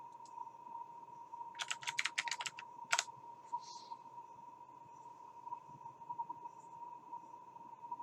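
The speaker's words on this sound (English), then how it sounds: "Let's just type it in." Quick bursts of typing on a computer keyboard, a rapid run of clicks and then a final tap, sit over a quiet room with a steady faint electronic tone.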